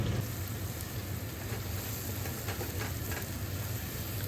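Onion sizzling steadily in hot oil in a pan, a dense continuous crackle with no talk, heard close throughout.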